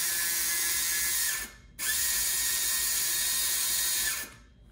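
An Oral-B electric toothbrush motor, opened up for teardown, whirs steadily and loud up close with a high buzzing tone, cutting out briefly partway through before starting again and then stopping near the end.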